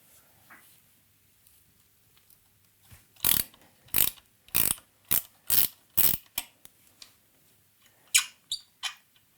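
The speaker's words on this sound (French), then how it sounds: "on va se munir de notre clé de 12 et on va pouvoir tout simplement desserrer le coulisseau" A 12 mm wrench loosening a motorcycle front brake caliper slide bolt, a quiet run of about six sharp ratcheting clicks, then three more after a pause, close up with no talking.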